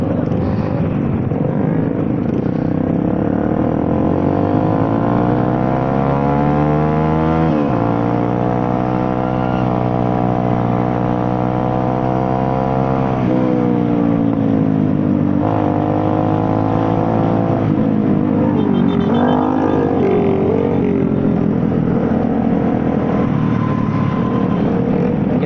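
Motorcycles on a busy Sunday-morning group ride in Palembang, engines droning steadily and close, with several rising and falling rev sweeps as the pack accelerates and shifts, continuous throughout with no talk over it.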